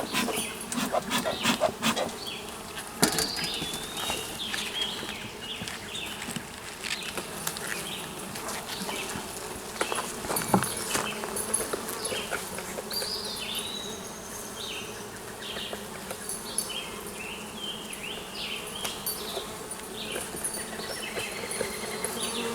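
Honey bees buzz in a dense, steady drone inside a Kenyan top bar hive, close and continuous, with scattered louder individual buzzes passing and some faint handling knocks.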